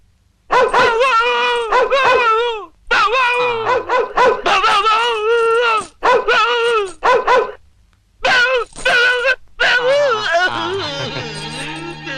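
A man imitates a dog barking, voicing loud repeated barks and yelps in bursts with short pauses, close and dominant, ending in a drawn-out howling tone.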